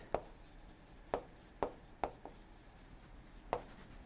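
Chalk or marker strokes on a lecture board come as a few sharp, distinct taps and scrapes spaced irregularly, faint and close, with no talking over them.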